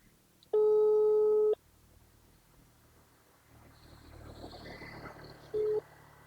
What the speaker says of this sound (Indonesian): Aduh, telepon C dulu.